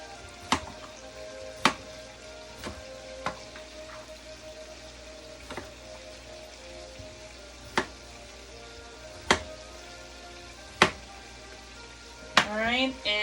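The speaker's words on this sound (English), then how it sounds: "I'm gonna go ahead and take this cucumber and I'm gonna cut it into slices" Knife slicing a cucumber on a cutting board: about ten sharp, separate taps spaced a second or so apart, quiet and close over a faint room background.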